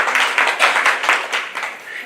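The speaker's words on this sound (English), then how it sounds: "Come on now, give yourselves a round of applause." A school forum audience of family and staff claps together in a short burst of fairly loud, uneven applause that tapers slightly toward the end.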